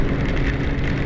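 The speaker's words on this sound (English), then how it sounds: "now it's starting to rain a little more." Steady rain drumming on a car while driving, a dense continuous patter filling the cabin, loud and even with no voices.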